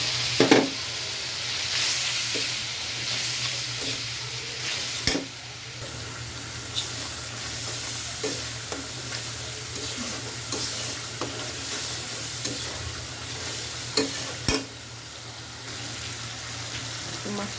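Chilli, turmeric, salt, coriander and cumin powders frying together in a pan, a continuous sizzle broken by repeated spatula scrapes and clanks of stirring, with no talking.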